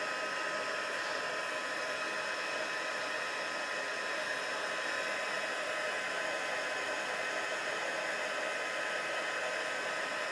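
An embossing heat tool blows hot air to heat-set embossing powder, giving a steady uniform whooshing hum like a hair dryer, close and continuous throughout with no talking.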